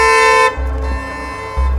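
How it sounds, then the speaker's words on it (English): A car horn honks at a driver blocking a narrow residential road, with a long sustained blast followed by two shorter, louder honks, close and insistent, with no talking. "A driver behind him honked angrily."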